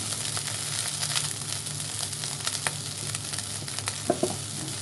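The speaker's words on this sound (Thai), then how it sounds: "ให้ต้นหอมหอมหอมเข้าด้วยกัน ผัดนิดนึงจะได้เก็บได้นาน" Seafood fried rice with spring onions being stir-fried in a pan, a steady loud sizzle broken by scraping stirs and a couple of sharper clanks near the end, with no talking.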